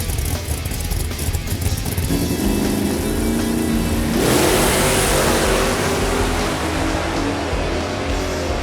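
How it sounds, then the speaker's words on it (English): Engine of a 1969 Buick Skylark in the Pass Time drag racing video game, loud sustained revving that climbs in pitch as it accelerates down the strip, with a brief surge midway and no talk. "It's a drag race, folks."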